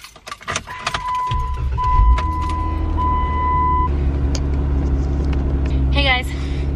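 A car engine starts and settles into a steady low idle, close and fairly loud, with a high warning chime early on and a person talking over it.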